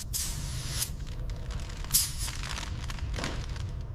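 Primer spray-painted onto a 1960 Lincoln Continental body hisses in short intermittent puffs, with one sharper blast in the middle, close by over a low background rumble.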